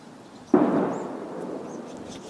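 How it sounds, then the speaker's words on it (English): A single distant high-powered rifle shot from hunting-season practice: one sharp report followed by a long rolling decay, moderately loud against a quiet outdoor background. "you can hear people practicing their high-powered rifles for hunting season"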